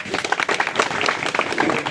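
Applause at a retirement gathering, a crowd clapping in a loose, continuous patter at moderate volume with voices mixed in.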